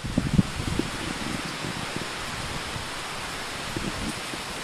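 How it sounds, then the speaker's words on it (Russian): Steady broadband rushing of strong wind through trees, a constant leafy hiss with low gusty thumps and no voices. "Такой ветер, такие деревья ходуном ходят,"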